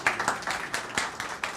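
Scattered applause from an audience at a national launch event greeting team members, with irregular clusters of claps rising and fading at moderate distance, fairly thin rather than a full roar.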